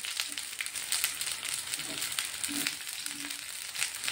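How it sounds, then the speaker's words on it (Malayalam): Brinjal for chammanthi sautéing in a pan, a soft, steady sizzle and faint frying crackle with occasional light stirring scrapes, heard quietly without talk. "ഒന്ന് ചെറുതായിട്ട് വഴണ്ട് വരുവോളം ഇതൊന്ന് വഴറ്റി എടുക്കണം"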